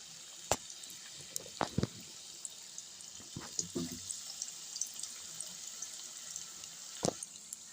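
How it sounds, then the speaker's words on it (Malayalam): Batter-coated masala bonda balls slide one at a time into hot oil, raising a steady bright sizzle broken by a few sharp plops and taps as each ball goes in. "ഓരോ മസാല ഉരുളകളും നമ്മൾ ബാറ്റിൽ മുക്കി എണ്ണയിലേക്ക് ഇടുകയാണ്."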